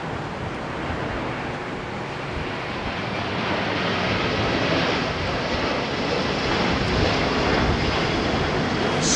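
A passenger jet lands at London Heathrow Airport in gusty wind, a steady broadband roar of engine and rushing air that swells slightly midway and holds loud throughout, with no voices.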